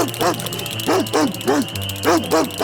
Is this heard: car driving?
no